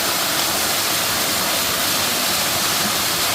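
Waterfall in Puerto Rico pouring steadily, a loud, close, continuous broadband rush of falling water with no breaks and no voices.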